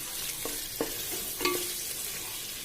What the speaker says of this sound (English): I'm going to continue frying this so that all the water gets dried up